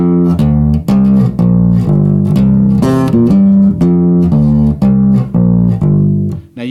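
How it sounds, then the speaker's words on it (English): Bass guitar playing a repeating line with no muting, plucked notes arriving in a steady rhythm, loud and close, with extra strings left ringing and blurring between notes. "If, for example, I play a bass line without muting any notes, it might sound like this."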